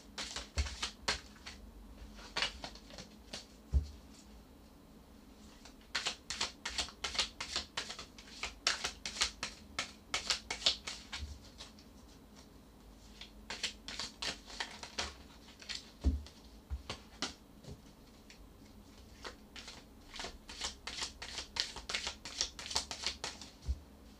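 Tarot cards are shuffled close by in repeated bursts of quick riffling and flicking, quiet and crisp, separated by short pauses over about twenty-four seconds, with no talking.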